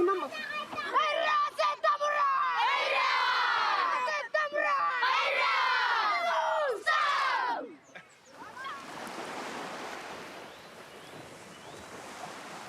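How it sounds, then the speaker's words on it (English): Rugby team in Fiji shouting a loud group cheer together outdoors, several rising chant bursts from many voices, then fading into wind and crowd noise. "let's do have a cheer"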